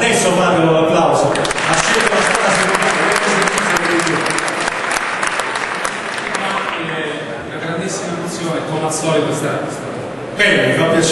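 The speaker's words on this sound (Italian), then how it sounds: "Adesso fate un applauso." Sustained applause from a large crowd fills the clip, loud and steady, with a voice speaking briefly as the clapping fades near the end.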